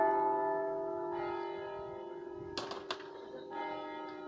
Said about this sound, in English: Oh my goodness, there's another bell.